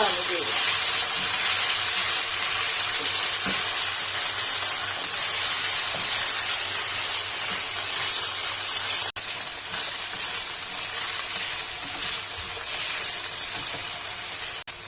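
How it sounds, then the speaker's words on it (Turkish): Orzo and rice sautéing together in a pan for Turkish rice pilaf, giving a steady loud sizzle and frying hiss with faint scraping throughout. "Kavurduğumuz arpa şehriyelerinin üzerine pirincimizi ekliyoruz. Beraber kavurmaya devam."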